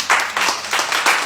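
A church congregation applauds during a sermon, several short bursts of clapping in quick succession.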